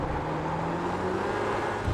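A race car engine on track, short shifting into second gear, roars as a steady, dense in-car drone with wind rush and a faint engine tone; no voices.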